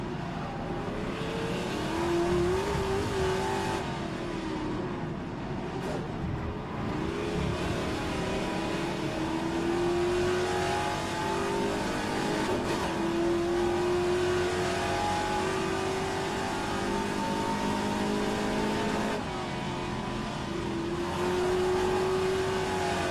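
A classic Trans-Am race car on the Adelaide circuit keeps up a continuous engine roar, with its pitch rising and falling through gear changes and corners, loud and dense throughout with no voices.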